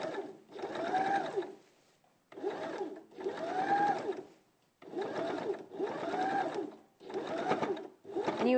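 A sewing machine running back stitch during dressmaking, whirring in short bursts of about a second each that stop and restart repeatedly, close and steady.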